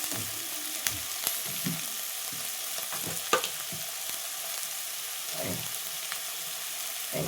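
Ivy gourd frying in a pan crackles with a soft, continuous sizzle broken by short, sharp stirring clicks and taps of a spoon, with no voices.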